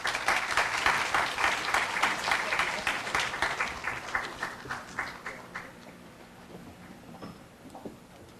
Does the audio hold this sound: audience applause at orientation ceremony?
yes